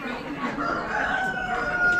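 A rooster crows loudly amid an Amish animal auction barn, its drawn-out call rising over a thick background of other poultry and crowd noise.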